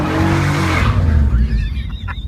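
A 1994 Pontiac Firebird Trans Am spins its tires with a loud, close screech and heavy engine rumble, the squeal holding steady before fading into a rougher grinding rush.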